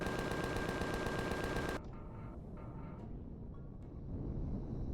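A Gatling gun in the space survival game Empyrion fires at a tree in a dense, continuous roar that lasts almost two seconds and then cuts off, leaving a quiet background with a few faint clicks.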